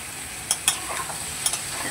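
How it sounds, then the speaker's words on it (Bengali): Poppy seed curry frying in a pan while being stirred, a few quick spoon scrapes over a steady soft sizzle, close and clear with no talk. "একটু নেড়ে চেড়ে নেব।"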